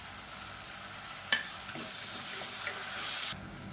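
Onions with salt and a handful of mint leaves frying in a pan for a chicken dish, a steady hiss of sizzling broken by a sharp stirring clatter and scraping, with no talk.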